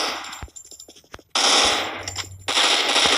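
Rapid bursts of automatic gunfire from the shooter game Point Blank, loud and close, with a stuttering volley cut by a short pause before two sustained sprays of fire.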